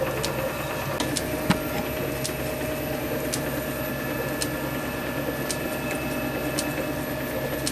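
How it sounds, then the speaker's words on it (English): A lathe machines the end of a metal ball handle part, giving a steady, loud mechanical whir with sustained tonal hum and occasional sharp ticks throughout. "we need to machine the end of this a little bit, just so that this recess just sits on the screw nicely"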